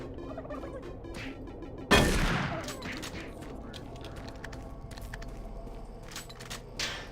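A single loud shotgun blast fires in the Doom video game, a sharp near crack at about two seconds that rolls into a decaying boom, over steady game ambience with faint scattered clicks and a smaller impact near the end.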